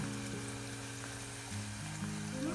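Banana slices frying in hot oil, a steady close crackling sizzle that runs throughout with a low hum beneath it and no voices.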